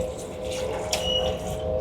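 Water runs steadily from a sink tap in a washroom on a Japanese train, a continuous close hiss and splash with a steady hum of the train underneath, with no talking.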